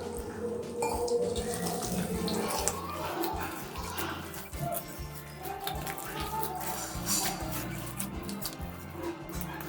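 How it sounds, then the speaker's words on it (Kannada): Water runs and trickles into a bowl of flour as aloo paratha dough is mixed by hand, a steady close liquid stream with soft squelching and clatter underneath. "ನೀರನ್ನು ಎಲ್ಲ ಹಾಕ್ಕೊಂಡಿದ್ದೀನಿ"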